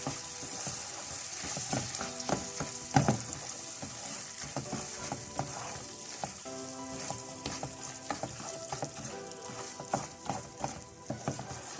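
Butter melting in a pan on a low flame for caramel, a continuous soft sizzle with frequent small crackles and a few clinks of stirring, close and fairly quiet throughout.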